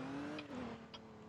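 A police cruiser in a driving game pulls away, its engine tone climbing briefly then settling, fairly quiet with a couple of faint clicks and no talk.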